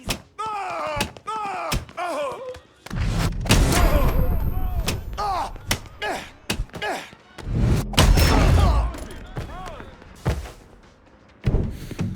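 Gunshots in Mafia 3 ring out as several loud, sharp bursts spread across a tense firefight, with heavy thuds between them and a voice shouting over the action.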